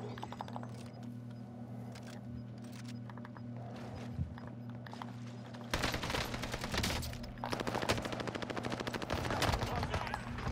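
Rapid bursts of gunfire in a PS5 shooter, quieter scattered shots at first, then dense loud automatic fire with sharp repeated cracks through the second half.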